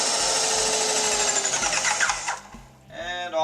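Electric motor of a Ryobi paint sprayer station whines steadily at close range, then winds down, pauses, and a voice speaks briefly at the end.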